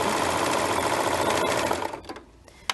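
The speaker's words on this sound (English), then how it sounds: "as I stitch, it's going to catch that lace" A sewing machine stitches lace onto fabric for an heirloom seam, a fast steady mechanical whir close by that runs for about two seconds and then stops, leaving a few faint clicks.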